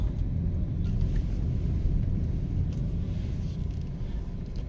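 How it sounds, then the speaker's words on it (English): Steady low engine rumble and road noise from inside a car driving through the town center of May Pen, Clarendon, Jamaica, continuous and close throughout. "We're basically just taking a drive through the town center."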